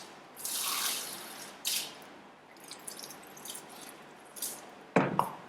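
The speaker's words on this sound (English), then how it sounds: "Rinse it out." Titration glassware is rinsed under a lab tap, with bursts of running water and splashing separated by quieter drips and a few sharp knocks of glass, close and without talking.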